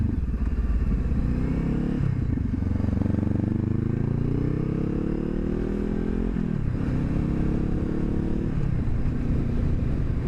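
A Honda CB500F motorcycle engine drones loudly while riding, pitch rising as it accelerates through gears, with brief dips at each shift.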